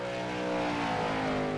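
A late model race car on a qualifying lap comes off turn four with a brief, steady engine drone. The tone holds even and moderately loud with no talk.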